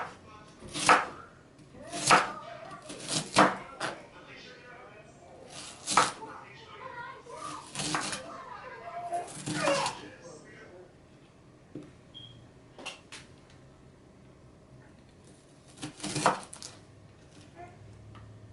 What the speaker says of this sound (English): Onions make me cry every time I cut up